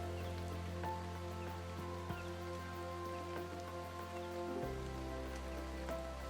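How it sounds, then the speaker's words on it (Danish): Rain patters steadily through jungle foliage, a dense continuous hiss of drops with a low sustained tone beneath it, no voices present. "Nu kan du mærke, at det begynder at regne i junglen"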